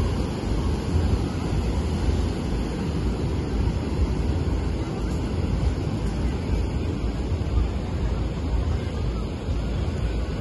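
Steady, broad roar of surf rolling onto Batu Bolong beach in Canggu, Bali, continuous and fairly loud with wind rumble across the microphone, no breaks and no voices.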